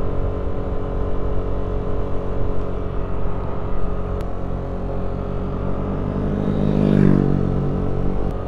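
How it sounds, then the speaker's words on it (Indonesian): A Yamaha Aerox 155 scooter engine drones and strains steadily while climbing a slope, with a steady low hum, a rising surge near the end and wind noise; no talking. "Motor ngeden."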